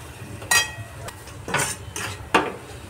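A spoon stirs masala with coriander and crushed peanut powder frying in a pan for idli fry, giving several sharp metallic scrapes and clinks against the pan at uneven intervals over a faint background, with no talking.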